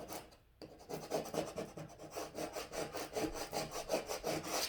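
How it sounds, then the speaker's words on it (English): A hand scraper rubs down adhesive vinyl for Dollar Tree baby shower candy table decor, making close, rhythmic rasping strokes that repeat steadily after a brief pause near the start, with no talking. "I'm going to grab my scraper and I'm just going to scrape it down."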